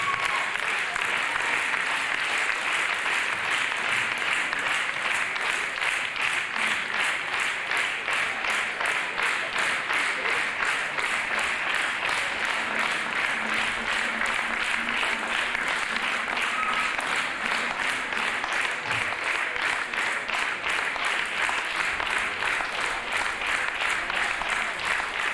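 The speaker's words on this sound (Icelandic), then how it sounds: "Við getum nú klappað betur en þetta, held ég." Audience at the Tónkvíslin 2009 music show in Iceland claps in a steady, even rhythm for about 25 seconds, a fast, regular beat of many hands, moderately loud and continuous.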